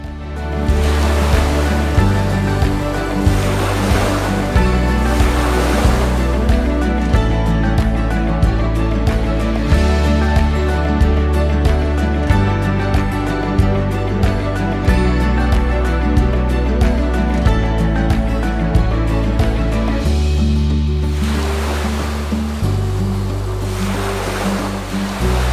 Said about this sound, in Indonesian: Deburan ombak bergulung perlahan membasahi pasir putih di bibir pantai.